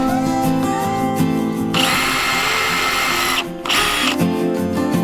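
A power drill fitted with a hole punch bit, working on a van panel, whirs in short bursts, then runs continuously at high speed for a couple of seconds, stops briefly, and spins up again, loud and close.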